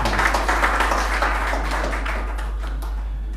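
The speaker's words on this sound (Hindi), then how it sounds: "दोस्तों ज़ोरदार तालियों से इस्तकबाल" Audience applause at a mushaira, an Urdu poetry gathering, greeting the poet Aijaz Ansari: dense, steady clapping from many hands that holds even and then thins slightly toward the end, with no voices over it.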